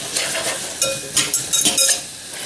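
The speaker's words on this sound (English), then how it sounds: "This isn't a non-stick pan, so I don't really mind using a metal utensil for this." A metal utensil scraping and stirring apples with brown sugar in a non-stick-free pan, giving a few sharp clinks and scrapes over a soft sizzle.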